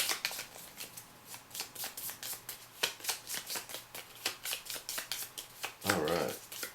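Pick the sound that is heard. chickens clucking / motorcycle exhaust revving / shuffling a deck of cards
shuffling a deck of cards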